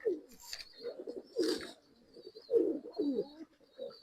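Rekdhar pigeons coo up close in short, throaty bursts that repeat every second or so, with a few faint high chirps between them.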